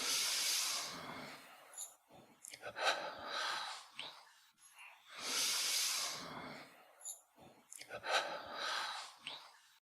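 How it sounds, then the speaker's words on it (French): Double breathing during a yoga exercise, raising both arms up and down: two rounds of long, loud airy inhales and exhales, each broken into short, sharp breath pushes, close to the microphone. "Raising both arms up and down with double breathing."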